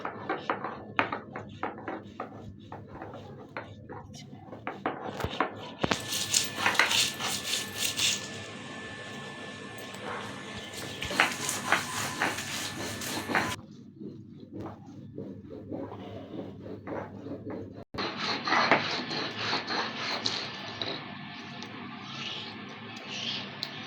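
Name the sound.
grinding garlic and onion into a paste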